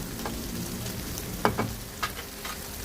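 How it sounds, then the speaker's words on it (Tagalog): Chicken pieces frying in butter for chicken pastil, a steady close sizzle with a few sharper crackles and pops breaking through, no voices. "Piprituhin natin siya sa butter."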